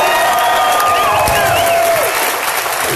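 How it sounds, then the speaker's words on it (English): Crowd at an outdoor political rally in Tallahassee, Florida, claps and cheers in a sustained, dense wash of applause lasting the whole stretch, with whistles and shouts rising over it. "Clap your hands if you love the United States of America."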